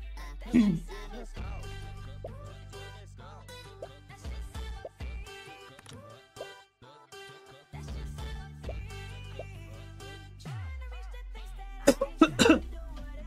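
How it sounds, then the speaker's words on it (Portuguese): A few dry coughs burst out, one early and a cluster near the end, over electronic background music and effects during a live Stumble Guys game session. "Eu tô com uma tosse seca."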